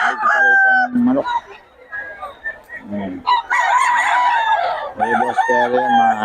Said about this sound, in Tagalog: Marami ka makakita rito ng manok.